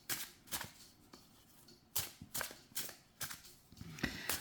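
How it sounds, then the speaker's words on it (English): A Surrealistic Tarot deck is shuffled by hand, giving soft papery riffles and sharp card snaps in an irregular rhythm, close but quiet, with no talking. "And I must admit, it's a real nice shuffle too."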